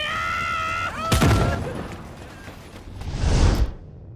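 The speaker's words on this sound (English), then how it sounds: "Airstrike!" An airstrike in the video game The Cycle Frontier: after a brief electronic tone, a sharp loud blast hits, followed by rumbling debris and a second heavy explosion before sudden silence.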